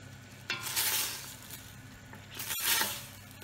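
A spoon stirs a boiling mixture of plums and sugar in a pot. Two brief, faint scraping and bubbling swells stand over a quiet simmer with no talk.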